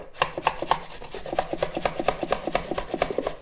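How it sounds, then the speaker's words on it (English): Carrots rubbed on a fine grater for carrot cake, a quick steady series of scraping strokes, close and fairly quiet, with no talk over them. "And then you're going to need to grate all this."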